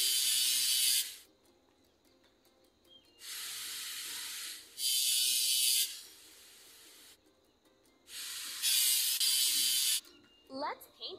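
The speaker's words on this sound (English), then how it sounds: "Let's paint over the discoloration." In a kids' house-building video game, three long synthetic spray-paint hisses alternate with quiet gaps, with a brief rising game chime near the end.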